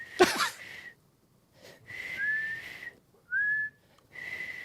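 Several whistled tones with sustained notes and rising slides, interrupted by short pauses; a sharp breathy burst at the start.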